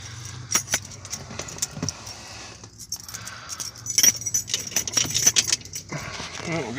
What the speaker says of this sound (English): Just get the keys in.